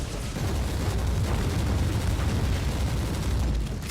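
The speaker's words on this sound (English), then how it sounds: "Lots of grenades as well." Grenade blasts in Warhammer 40,000: Inquisitor Martyr, a dense, continuous rumble of overlapping explosions and booms rolling without pause under heavy low-end noise.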